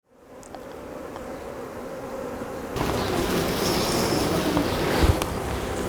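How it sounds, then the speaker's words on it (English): A steady, dense buzzing of many honey bees swarming close by, growing slightly louder partway through, with no talking. "These bees here, this type of bee is the honey bee"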